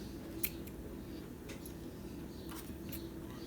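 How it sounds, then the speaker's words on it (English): Scissors trimming paper pages for a junk journal, a few faint, quiet snips spaced out over low background hum. "Get my scissor. I'll trim this down."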